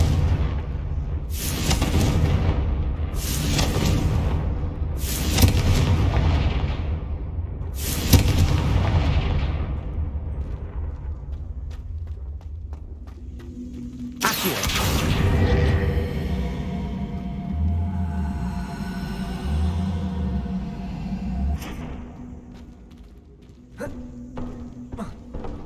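Confringo spell blasts in Hogwarts Legacy, a string of heavy booming impacts, several in quick succession and then more spaced out, each with a decaying rumbling tail over game ambience.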